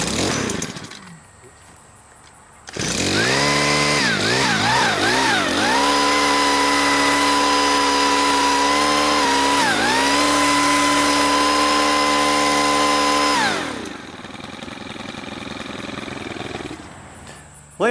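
A STIHL KM 130R multi-tool engine starts after a quieter stretch, revs up and down a few times, and then holds a loud, close, steady whine before dropping back to a lower idle.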